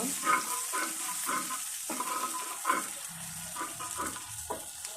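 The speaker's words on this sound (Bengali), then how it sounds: "এখন দিয়ে দিব কিছুটা পরিমাণ দুধ এখন ভালো করে একটু নেড়ে চেড়ে নেব" An egg mixture with milk stirred in a frying pan, soft repeated scraping strokes over a faint steady sizzle, fairly quiet and close, with no talking.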